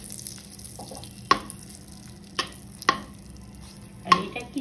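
Whole chilli tempered in hot oil for paneer posto crackles with a low simmering hiss, broken by four sharp, close pops spaced about a second apart.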